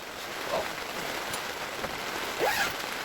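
Steady rain patters on surfaces outside a garage in wet British weather, a continuous soft hiss with a few brief chirps or squeaks rising over it.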